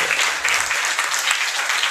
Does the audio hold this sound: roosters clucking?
no